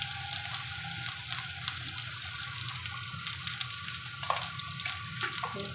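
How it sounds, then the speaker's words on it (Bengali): Spice paste frying in a pan for a jackfruit and prawn dish, with a soft, steady sizzle and a few light clinks and scrapes, moderately quiet and without talk. "মশলাটাকে ভালো করে কষে নেব।"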